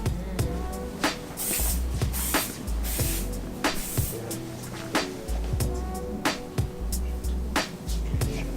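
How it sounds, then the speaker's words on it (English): Short bursts of aerosol shine spray hiss repeatedly at close range onto hair during a blow-dry, several quick sprays in irregular rhythm over a soft background. "taking some of the shine spray"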